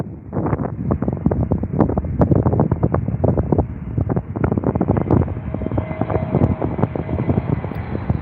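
A Scandinavian airline's Airbus A319 arriving at Heathrow, its engine rumble heard through heavy gusting wind buffeting the microphone, with a faint steady whine coming through toward the end and no voices.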